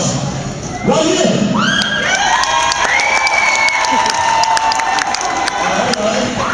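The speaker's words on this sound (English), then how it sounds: "the sound of your applause." A large crowd at a school luau with a teachers' haka cheers, whoops and shouts, with children's voices mixed in, in a loud, sustained roar that swells after the first second and continues to the end.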